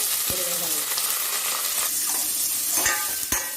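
Onion, cabbage, carrot and beans stir-fry over high heat for veg hakka noodles, a loud continuous sizzle broken by a few sharp spatula knocks and scrapes against the pan, no talking.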